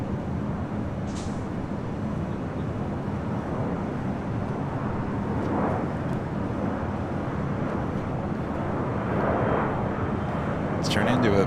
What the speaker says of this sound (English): Next takeoff should be United Airlines Flight 1069 heading to Chicago O'Hare in a 737 MAX